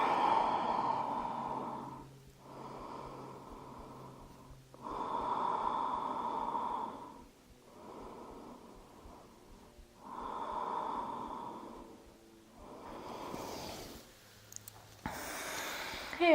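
Slow, steady breaths of a person resting in yoga child's pose, seated on the heels with the forehead down on the floor or a block. Several long, close inhale-exhale cycles repeat at an unhurried rhythm, with no talk.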